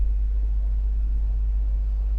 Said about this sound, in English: Car is starting.